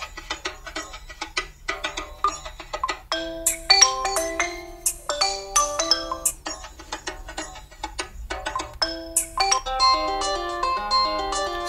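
Stock ringtone melody on a Xiaomi Redmi 3 smartphone, a bright, bell-like electronic tune of repeating short phrases, played alone at moderate volume from the phone's speaker.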